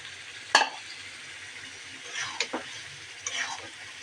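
Washed meat drops into a pot for biryani with a sharp clatter, followed by faint, soft sizzling and a few quieter stirring clicks in a quiet kitchen.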